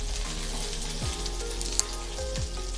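Chopped garlic and slit green chillies sizzle steadily in hot oil as they are sautéed, a soft continuous frying crackle with a couple of light clinks of stirring.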